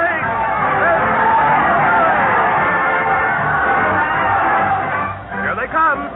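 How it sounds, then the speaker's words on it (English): A dense crowd roars and cheers continuously as a radio show parade of stars heads to the old Town Hall, a loud, sustained wash of voices that dips briefly near the end. "Listen to that crowd cheer as Fred Allen leads his parade of stars to the old Town Hall."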